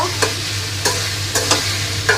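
Pigeon meat stir-fried in a hot pan: a steady sizzle broken by several sharp scrapes and clatters of a spatula, close up, no voices.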